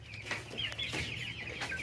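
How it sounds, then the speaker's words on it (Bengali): Tiger-breed and farm chicks clucking and peeping close by, a few short overlapping calls over a low steady background hum. "এখানে টাইগার ও কিছু ফার্মি মুরগির বাচ্চা আছে"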